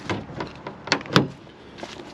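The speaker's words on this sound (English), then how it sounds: "The trunk doesn't open." A 4.0 4x4 Jeep's stuck rear trunk being tried: several dull metallic clunks and rattles of the latch and door, two sharper knocks near the middle, close and alone.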